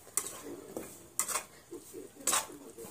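A spoon scrapes and clinks against a pan while maida flour is stirred and roasted in oil, with a few sharp metallic knocks over a soft, quiet background.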